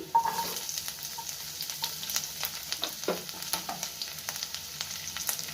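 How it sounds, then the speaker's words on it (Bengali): Onion dropped into garlic already frying in a pan, a soft close sizzle punctuated by crackles and spatula scrapes, quiet with no talking. "রসুনটা ভাজা হয়ে গেছে তো পেঁয়াজটা আমি দিচ্ছি"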